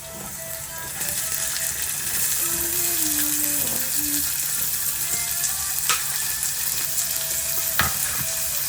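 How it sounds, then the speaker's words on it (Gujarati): Onions sizzle steadily in hot oil in a pan, frying with garlic toward golden brown for aloo matar; a dense, even crackle runs throughout, with a couple of brief sharper ticks near the end. "ડુંગળીને શેકી લઈએ બરાબર, ગોલ્ડન બ્રાઉન થાય ત્યાં સુધી"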